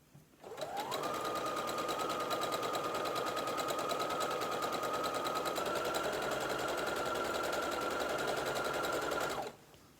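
A sewing machine stitches a skirt seam in one continuous run of about nine seconds, a steady close whirring hum that spins up at the start and stops abruptly.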